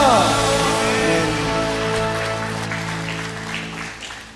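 A church congregation claps together during a Sunday worship service, a dense steady wash of applause under sustained organ or keyboard chords, thinning out toward the end.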